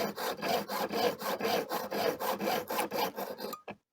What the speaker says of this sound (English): sometimes it's very useful to use a beeswax on your saw blade. So the beeswax usually make it very easy to cut the metal